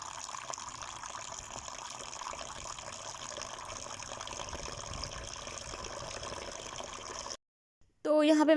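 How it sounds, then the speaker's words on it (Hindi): Water poured into a container in a rooftop storage area at home, a steady gushing fill running for several seconds at moderate level, then cutting off abruptly before a brief voice at the end. "तो यहाँ पे मैं पानी इसमें डाल ली थी"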